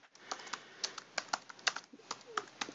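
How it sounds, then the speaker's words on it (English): Rapid, uneven clicking of keys on a computer keyboard, close and clear, with keystrokes coming in quick clusters and short pauses, no talk over it. "my typing is terrific"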